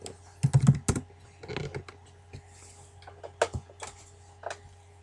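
Typing on a computer keyboard: a quick, uneven run of close clicking keystrokes, denser at the start and then scattered in small bursts.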